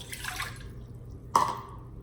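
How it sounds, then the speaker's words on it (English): A cup of water is poured into an Instant Pot fitted with a long-legged trivet, giving a short, soft splash and trickle that ends with a brief, sharper drip-like spatter near the end. "pour in a cup of water"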